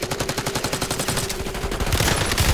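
Rapid automatic gunfire in Call of Duty Warzone (Black Ops 6), a dense, fast, evenly spaced burst of shots that carries on without a break and swells slightly near the end.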